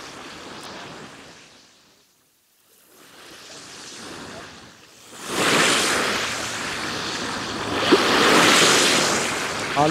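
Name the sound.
waves on Lake Sevan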